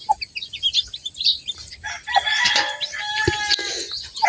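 Chickens on a Filipino farm cluck and crow close by in short bursts, mixed with chirping chicks and brief rustling, with no talk.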